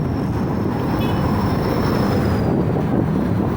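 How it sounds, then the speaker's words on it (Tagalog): Steady, heavy wind rumble buffets the microphone throughout, with a faint high whine drifting in the background. "Lamig dito, lakas ang hangin."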